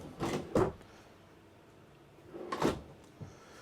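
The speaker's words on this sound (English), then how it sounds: "You got 4 of your pull-out dresser drawers." A pull-out dresser drawer in a 2024 Hampton 380RKS rear-kitchen destination RV slides and thuds twice, with two separate bursts of sliding and closing knocks and quiet gaps between them.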